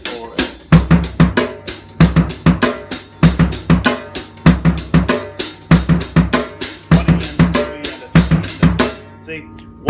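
A drum kit plays flam fills, steady repeated loud strikes with doubled attacks in a bouncy eighth-note groove, close and unaccompanied for the full stretch.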